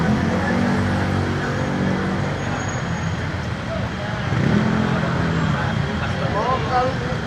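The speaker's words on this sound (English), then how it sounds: "Traffic." Busy street traffic on a walking street lined with money exchangers, a steady roar of passing cars and vehicles, fairly close and continuous, with voices and crowd chatter mixed in.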